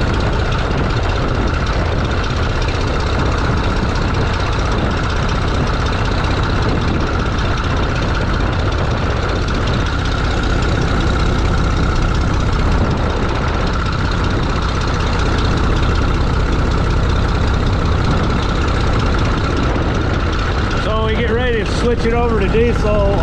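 Steady diesel engine idling, loud and continuous with a low rumbling drone, someone talking over it throughout.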